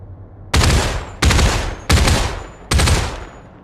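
Four evenly spaced, loud gunshots in the Population: ONE VR game, each a sharp, broadband blast with a short decaying tail and brief pauses between them.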